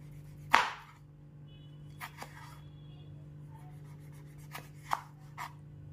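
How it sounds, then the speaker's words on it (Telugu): A knife slicing a small tomato on a board for veg Maggi noodles, giving a sharp cut at the start and a few softer, sparse chops after, close and clear over a steady low kitchen hum. "ఇప్పుడు ఒక టమాటో, చిన్న టమాటో తీసుకొని దాన్ని ఈ విధంగా కట్ చేసుకోండి"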